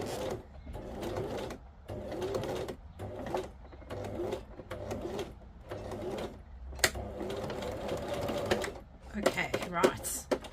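Small sewing machine stitching fabric in repeated short bursts of rapid mechanical chatter, separated by brief pauses, with a person talking between and over the runs.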